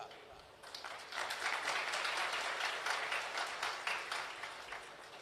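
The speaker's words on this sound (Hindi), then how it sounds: "अब ताली तो बजा रहे हो," An audience at a Hindu spiritual discourse applauds: steady, dense clapping from many hands in a hall, slightly distant, with a voice speaking over it.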